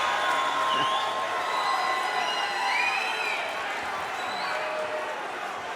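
Fight-night crowd cheering and shouting during the final round of a cruiserweight championship boxing bout, a continuous roaring wash of voices with whistles and whoops rising out of it, and a commentator talking over it.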